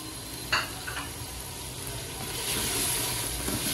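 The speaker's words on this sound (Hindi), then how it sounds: "प्याज शामिल करने के बाद फिर थोड़ा सा भूनेंगे। 2 से 3 बारीक कटे हुए टमाटर शामिल कर देंगे" Chopped onions and tomatoes fry in a pan for chicken karahi, a steady sizzle that swells louder partway through, with a brief clatter of stirring near the start and no talking.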